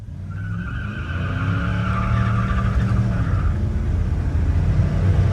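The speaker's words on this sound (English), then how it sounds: "Nice little burnout there." A 1968 Chevelle SS 396 does a burnout, its loud engine roaring steadily while the tires squeal and skid for several seconds, heard up close with no talking.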